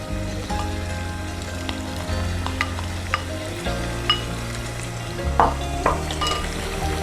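Fenugreek and spinach paste fries with masala for palak chicken, a constant close sizzle and bubbling hiss punctuated by a few sharp spatula clicks and scrapes against the pan.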